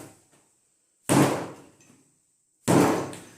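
Bread dough is slammed down on a table twice while kneading in a home kitchen making a Genoese recipe. Each is a heavy, close, solid thud with a short decay, separated by quiet, and no voices are heard.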